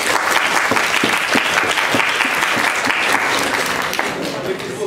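Applause for the teams at a student law quiz game, loud close clapping from a room full of people, steady and dense with distinct individual claps before tapering slightly.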